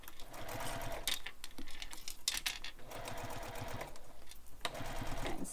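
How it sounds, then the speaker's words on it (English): A sewing machine backstitches a seam on a handbag, running as a close, steady mechanical whir with a few brief pauses and restarts. "I'm back stitching here just to really help secure that top"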